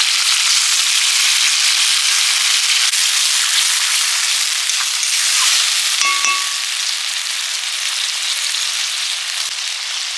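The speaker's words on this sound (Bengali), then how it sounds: "জল দিয়ে মশলাটা কষে নেব" Spice paste cooked down with water in a pan hisses in a steady, loud, close sizzle, with a single brief metallic clang from a utensil partway through.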